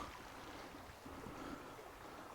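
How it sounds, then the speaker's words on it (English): Soft, steady rushing of flowing creek water, faint and continuous with no voices. "Love the sound of a flowing creek."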